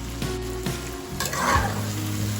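Tomato and spiced masala sauté in hot oil in a pan, a steady close sizzle broken by a few scraping stirs, with no voices.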